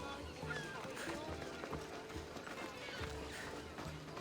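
Rhythmic clip-clop of horse hooves at a brisk pace in Assassin's Creed Odyssey, with game-style ambience and people talking over it.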